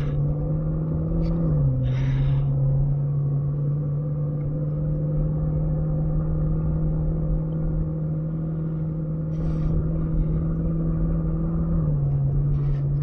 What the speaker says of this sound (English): car still warming up